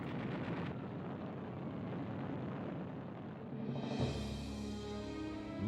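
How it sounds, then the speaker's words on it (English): Archival war footage of a bombing raid on Clark Field airfield and its lined-up US aircraft: dense, continuous rumbling blasts and explosions, loud and steady throughout with no voices. "a preemptive bombing raid caught large numbers of US aircraft neatly lined up at Clark Field"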